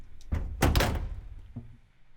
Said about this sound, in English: So this was a car door.